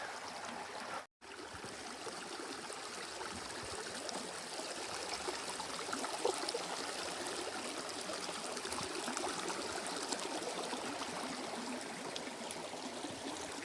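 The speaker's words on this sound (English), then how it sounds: "Where the trail meets this river, you're supposed to ford it" A river flows steadily where a Pacific Crest Trail path crosses it. A soft, continuous rushing of water lasts throughout at moderate distance, with a brief dropout near the start.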